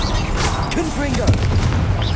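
Fire-blast spell explosions going off in a Hogwarts Legacy battle, with repeated heavy booms and rumbling impacts under spell-casting voices, loud and close.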